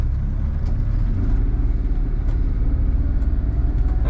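A Daihatsu Mira with a 3-speed automatic accelerates, its engine a loud, steady, droning rumble heard from inside the car with no talking.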